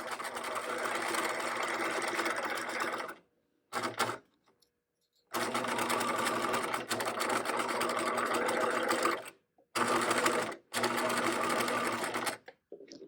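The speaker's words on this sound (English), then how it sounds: "putting the foot back down, and beginning to sew again" A sewing machine stitching fabric for a fabric maze project, running in steady fast mechanical bursts that stop briefly as the fabric is pivoted, then resume, close and fairly quiet with no talk.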